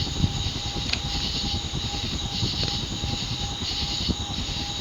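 A Codep View Fan 52-inch spinner ceiling fan runs with a steady whooshing airflow and a thin, constant motor whine, holding even throughout with a few faint ticks, no voices.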